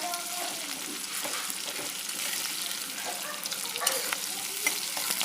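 Onion drops into hot oil already holding dry chilli and cumin, giving a steady hissing sizzle that goes on throughout, with light stirring scrapes and small crackles close by.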